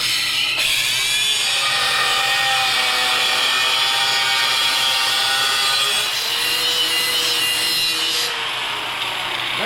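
A saw grinds steadily through metal during a ride-on toy jeep build, cutting poorly, for nearly ten seconds: a loud, continuous rasping with a high screech, uneven near the end.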